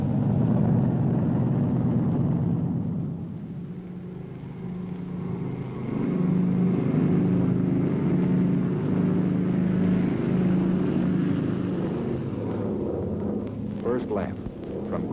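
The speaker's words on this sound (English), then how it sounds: "This was the takeoff for one of the greatest mass flights in history." Many B-29 bomber engines roar together during a mass takeoff in 1945, a deep, sustained drone that swells and fades, with narration speaking over part of it.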